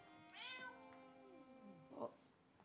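A cat gives a drawn-out, falling meow, then a shorter second call about a second later, close and quiet indoors.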